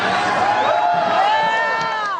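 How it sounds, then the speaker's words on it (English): A crowd cheers and whoops at a Boston Tea Party reenactment on Lady Bird Lake in Austin, with lively overlapping shouts and rising, wavering voices in one brief, close burst. "Lots of cheering as dressed-up tea partiers threw boxes overboard into Lady Bird Lake"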